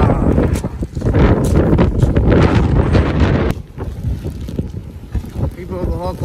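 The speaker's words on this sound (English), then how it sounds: "It's windy and cold." Cold wind gusts straight into an outdoor microphone in loud, rumbling bursts that ease off partway through, leaving quieter, uneven buffeting.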